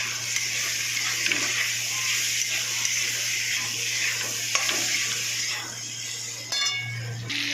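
Potatoes and spices with tomato fry in a pan with a steady close sizzle, punctuated by faint stirring clinks and scrapes, with a steady hum underneath.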